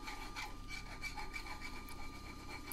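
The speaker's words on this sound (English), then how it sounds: "I've just got a little chainsaw file" A small chainsaw file rasps steadily over forged metal, rounding the edges of a hand-forged window handle with quick repeated back-and-forth strokes, close and continuous, no voices.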